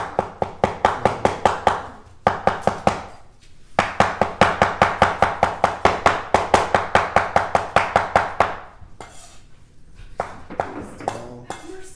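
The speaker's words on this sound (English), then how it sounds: "chop it up" Knife chopping cooked beef cheek on a cutting board, rapid rhythmic knocks in quick bursts with short pauses, close and crisp.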